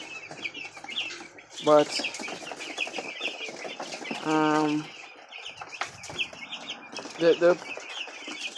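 Week-old chicks in a brooder on a Jamaican poultry farm cheep in a constant busy chatter, with a few louder calls standing out nearby as a person speaks briefly.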